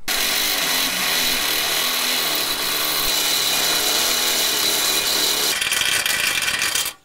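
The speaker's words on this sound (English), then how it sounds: "Now using an 18mm drill bit, we're going to have to open up this hole as well as on the other side of the chassis" An 18mm drill bit bores loudly and continuously through the steel chassis of an Isuzu D-Max, opening a hole for a recovery point crush tube, with a grinding whine that shifts pitch near the end before cutting off.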